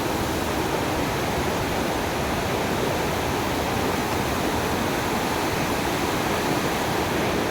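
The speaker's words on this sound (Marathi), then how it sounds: "धबधब्याचा मेन पाणी पडताना" A steady, dense roar of falling water, loud and unbroken throughout, like standing close to the main fall of the Savdav waterfall at night.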